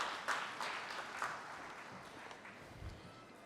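Applause from an audience at a banking summit, a faint diffuse patter of many hands that swells briefly and then thins out, heard at a distance.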